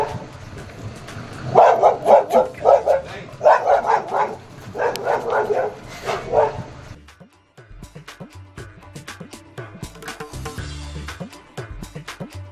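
A dog barks repeatedly while chasing a wild elephant along a road near Gudalur, with loud, close bursts of barking followed by quieter yips and scattered barks.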